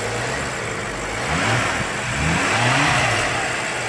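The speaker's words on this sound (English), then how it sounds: "Check out that engine." A 2016 BMW M6's twin-turbo V8 with M Performance exhaust idles and then revs up a couple of times, the deep rumble rising and falling steadily throughout.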